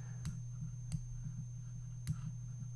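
Mouse clicks while retouching scratches on a photo in Photoshop, a few sharp isolated clicks spaced irregularly over a steady electrical hum.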